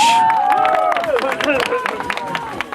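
Outdoors at a lawyers' fishing festival, a crowd applauds for Petr Boiko, steady clapping and cheering running under a loud announcer's voice and crowd chatter.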